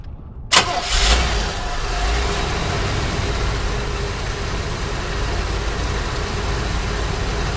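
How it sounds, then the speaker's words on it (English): An Oldsmobile Cutlass 307 V8 cranks briefly and fires up at once, then settles into a steady, loud, rumbling idle that carries on to the end with no throttle added. "I'm just gonna turn it over and see what happens"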